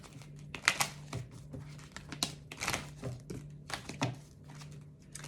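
Tarot cards being shuffled and pulled, soft papery crinkling and flicking taps in quick irregular bursts, close and fairly faint over a low steady hum.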